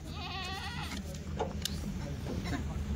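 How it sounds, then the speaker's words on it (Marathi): Two goats loaded into a vehicle bleat, one wavering, nasal cry up front followed by shorter calls, amid steady low engine-like hum and some rustling. "आता 2 शेळ्या चालल्या गाडीमध्ये."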